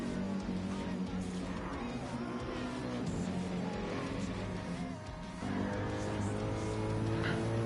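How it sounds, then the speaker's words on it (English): Race car in a GT class event at Road Atlanta, heard from the cockpit, engine droning loud and steady through a corner with a brief dip in pitch and level as it lifts, then pulls hard again. "In the cockpit of Cohen's car now."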